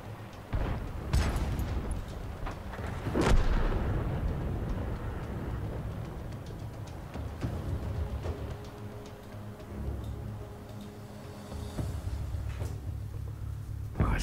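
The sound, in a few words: artillery gun firing in video game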